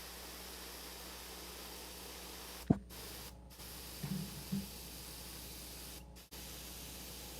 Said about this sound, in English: It's probably just because he's spraying. I am spraying Yeah, right now. I think that's what you're hearing, Tiger Shady.